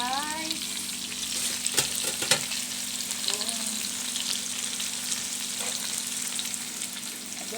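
Liver adobo cooks in a pan with a loud, continuous sizzle and crackle, a few sharp pops and clatters, and a steady low hum underneath.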